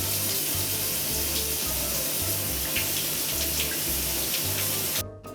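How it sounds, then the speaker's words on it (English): Cold tap water runs steadily and loudly over a pressure cooker in a home kitchen, a continuous rushing splash that stops abruptly at the end. "I'm going to go run it under cold water so we release the pressure immediately"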